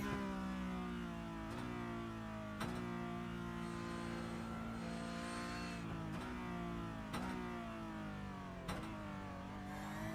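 A Porsche Cup car engine in a sim racing game revs hard and climbs in pitch between sharp, regular gear-shift breaks, a buzzing, harmonic whine heard alone without speech.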